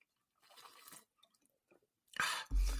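Quiet sips and soft swallowing sounds up close, then a louder clunk and rustle near the end.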